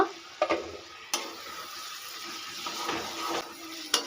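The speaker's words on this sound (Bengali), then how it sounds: "পাঁচ মিনিট পর ঢাকা তুলে আমি নাড়াচাড়া করে দেব" Duck curry spice paste sautéed in a pan, with scraping stirs and a few sharp utensil knocks over a steady close sizzle.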